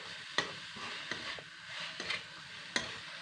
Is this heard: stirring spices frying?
yes